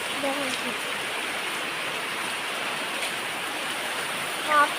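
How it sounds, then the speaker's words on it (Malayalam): Heavy rain pours down without letup, a dense, steady hiss of water that holds evenly throughout with no break in intensity. "നല്ല ശക്തമായിട്ടാണ് മഴ പെയ്യുന്നുള്ളത്"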